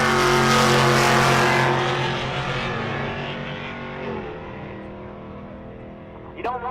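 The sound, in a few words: 4th Gen Firebird drag racing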